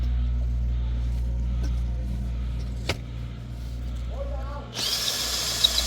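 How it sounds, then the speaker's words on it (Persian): A low steady hum, then a power drill suddenly whirs to life loudly and keeps spinning to the end. "الان برعکس میکنه دریلو"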